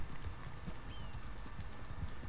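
Heavy hooves of a giant horse clip-clop in a steady walking rhythm in Red Dead Redemption 2, continuous and fairly close with no talk over them.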